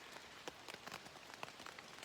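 Rain falls outdoors on a June day in the New Hampshire mountains, a soft, distant patter of scattered drops tapping on surfaces with no one talking.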